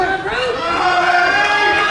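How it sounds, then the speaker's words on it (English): A wrestling crowd in Philadelphia roars steadily for hometown favourite Harleen Lopez at a championship match, a dense, loud wall of cheering and shouting that holds without a break. "Fans here in Philadelphia rallying behind Harleen Lopez"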